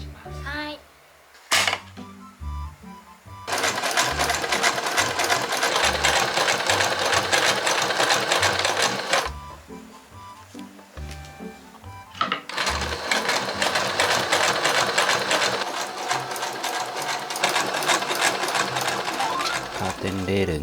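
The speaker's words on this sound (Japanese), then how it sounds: "これもうこのまま縫います" A sewing machine stitches a curtain for a Honda Step WGN minivan camping setup, running in two long, loud, close bursts after a brief quiet start with a few clicks.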